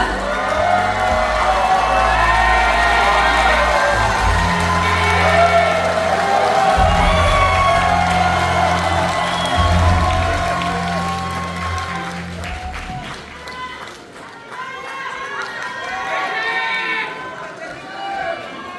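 A convention hall crowd at a Democratic Party joint campaign rally in Chungbuk welcomes candidate Park Seon-won with loud, dense applause and cheering that swells over a low steady backing sound for about thirteen seconds, then thins and fades.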